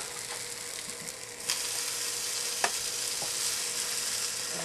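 A pepperoni and cheese quesadilla sizzles steadily in a hot pan, a continuous bright frying hiss that swells louder after a soft clatter, with a few small pops and no talking.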